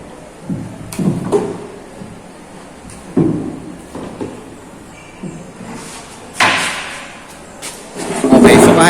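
A 50 cm spear gun with a Neptunic-type trigger fires spears into a plywood target, giving several loud, sharp thuds and cracks spaced a second or two apart over outdoor background noise. Someone speaks between the hits.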